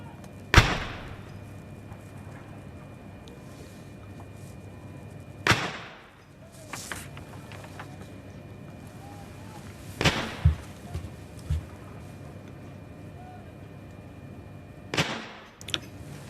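Artillery guns firing a 62-gun salute for the King's coronation anniversary: single loud booms about every five seconds, each ringing out across open ground, with someone commentating quietly between shots.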